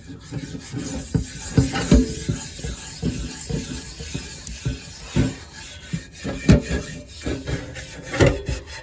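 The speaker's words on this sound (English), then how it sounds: "It's going to take a lot of scrubbing, and a lot of scrubbing, and then some more scrubbing." A cast iron pan is scrubbed with baking soda, producing close, continuous gritty rubbing strokes in an uneven back-and-forth rhythm with occasional scraping knocks, without speech.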